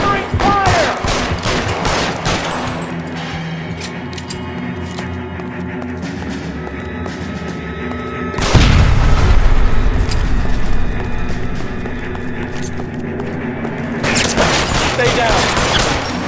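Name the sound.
covering gunfire in video game L.A. Noire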